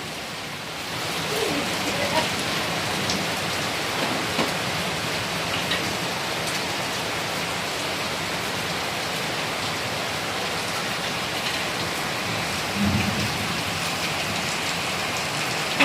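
Heavy rain pours steadily in a big afternoon storm in Ventinilla, Paniqui, Tarlac, a dense unbroken roar of drops on surfaces throughout, with no clear thunder, and faint voices only barely present under it.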